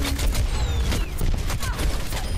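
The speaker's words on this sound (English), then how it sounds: "That is why I love Pharah and the rocket launcher." Rocket launcher fire from Pharah in the video game Overwatch, a dense dense barrage of blasts and explosions with whooshing projectiles, loud and continuous throughout amid busy game action.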